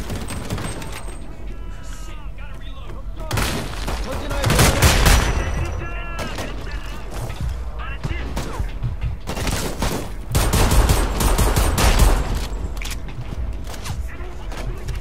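Pistol and automatic gunfire in the game Homefront: The Revolution, loud bursts of repeated shots clustering in two intense stretches over a steady background, with someone talking at times.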